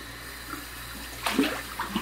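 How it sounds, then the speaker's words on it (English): Running water from a cold rinse after a straight razor shave. Soft, close splashing and trickling come in short bursts in the second half, over a quiet room background with no talk. "Just did a real cold water rinse"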